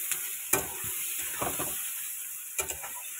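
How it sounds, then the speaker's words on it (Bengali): A fish head frying in fish oil with salt and turmeric, a faint steady sizzle and hiss broken by a few sharp utensil clinks and stirring scrapes nearby. "মাছের মাথা বাঁধাকপি করার জন্য মাছের মাথাটা ভেজে নিলাম"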